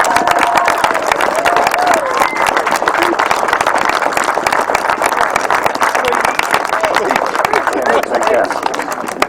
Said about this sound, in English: Big round of applause please for Shaun Harvey